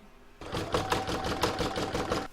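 An embroidery machine stitches a quilting round on a thick, lofty poinsettia coaster, giving a loud close rapid rhythmic needle clatter that starts abruptly and runs steadily with no voice.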